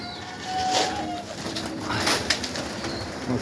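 Pigeons coo softly nearby amid faint rustling and occasional wing flutters, with a quiet background hiss.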